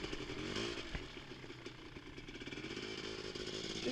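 A Polaris Scrambler four-wheeler engine runs steadily on a nice day of road riding, its motor droning loud and close with a buzzy, chainsaw-like tone and faint clatter, no talking over it.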